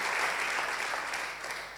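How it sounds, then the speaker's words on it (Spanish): Congregation applauding the Lord during a Spanish-language church service, a dense, steady wash of clapping from a crowd that holds for a moment and then begins to taper off. "Dale un aplauso al Señor"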